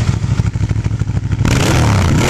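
Ducati 1198S motorcycle engine, a loud close idle with a rapid thumping pulse that jumps into a harsh, sustained high rev, with no talking.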